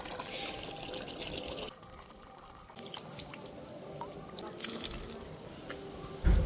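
Hands being washed with water in a home kitchen after making rotis, soft splashing and trickling water that pauses briefly then resumes, fairly quiet with a sharper knock near the end.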